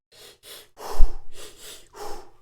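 A man breathes heavily after running out of breath, with several loud, close gasping inhales and exhales in an uneven rhythm, without speech.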